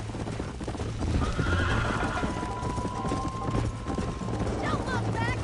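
A horse in Red Dead Redemption clip-clops at a brisk gallop, with a neigh and rattling tack over a dense, continuous game soundscape.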